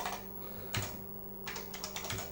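Typing on the keyboard of an IBM PC XT computer, a close run of clicky keystrokes with one heavy press early and a quicker cluster of taps near the end.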